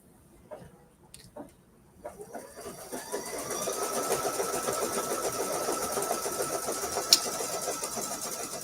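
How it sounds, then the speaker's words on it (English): A sewing machine stitches an oval on a gunny sack scarecrow block, starting after a few soft clicks and then running in a steady, fairly close mechanical whir for several seconds with a brief sharp tick near the end. "I'm ready to just go ahead and stitch that that oval."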